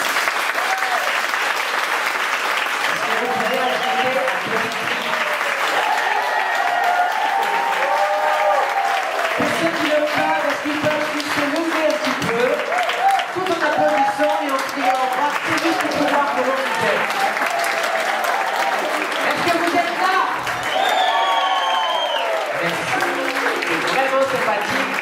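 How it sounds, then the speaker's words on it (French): A theatre audience at a musical comedy show claps steadily and loudly for about twenty-five seconds, a dense continuous wash of hands with scattered voices and calls rising above it. "ils ont déjà applaudi"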